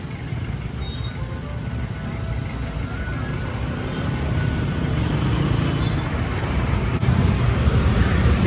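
Dense street traffic in a busy area of Bacoor City, Cavite, with trucks, cars and buses rumbling continuously and steadily growing louder, including a brief hiss like an air brake.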